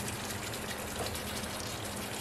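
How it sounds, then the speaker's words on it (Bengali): Water pours steadily into a pan of egg masala, a close, continuous gushing splash that holds evenly from start to finish with no voices over it. "এখানে আমি জাস্ট একটু হালকা জল অ্যাড করে নেব।"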